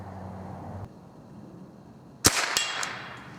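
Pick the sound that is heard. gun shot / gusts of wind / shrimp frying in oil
gun shot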